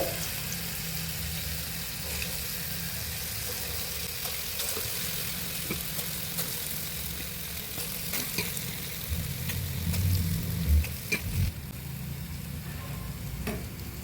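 Small balls of Chettinad paal paniyaram batter frying in hot oil in a kadai, with a steady close sizzle and crackle that swells briefly near the end, accompanied by light stirring clatter.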